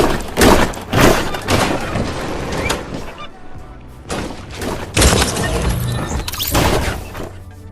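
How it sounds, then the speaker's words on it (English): A golf cart in Fortnite slams into the side of a cabin and tumbles over, giving loud repeated crashing, shattering and thudding impacts in bursts across the clip, with heavy game noise between hits. "they horribly crash onto the side of the house, get tossed and rolled over onto the ground"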